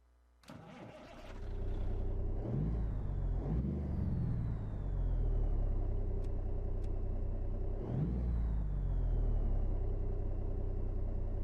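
A truck engine with a 444 engine sound mod in American Truck Simulator cranks and starts, then settles into a loud, steady rumbling idle with a couple of revs that rise and fall.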